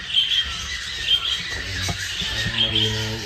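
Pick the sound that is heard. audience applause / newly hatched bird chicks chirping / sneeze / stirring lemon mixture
newly hatched bird chicks chirping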